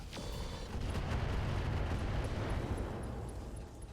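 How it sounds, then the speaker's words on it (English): Missile explosions in the mech battle game Roguetech: a sharp blast opens into a dense, rumbling roar of detonations that fills the short stretch and slowly tapers, with no talking over it. "Sound like two missiles."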